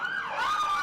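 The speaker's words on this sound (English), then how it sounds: "we have a lot of sirens going on right now" A brief burst of siren wailing at a Christmas parade in Cocke County, the tone rising and falling over steady road noise.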